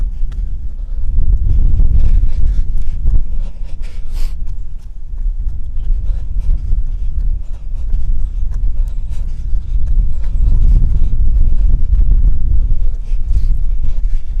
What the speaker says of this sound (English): there's quite some wind here